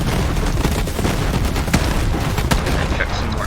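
Constant loud gunfire and grenade blasts from the shooter video game Borderlands 3, rapid shots and booms packed together with no break.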